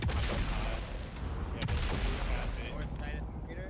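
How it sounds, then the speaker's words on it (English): Dense gunfire and booming shots from a Dune Awakening multiplayer battle in the desert, dozens of rapid reports layered into a continuous loud barrage that runs for the whole stretch with no pauses. "I'm getting shot at by a bunch."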